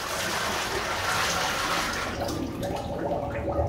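Freshly made cold-pressed oil pours into the tank of an oil filter machine with a continuous splashing, gurgling flow that stays fairly loud and steady and is heard alone.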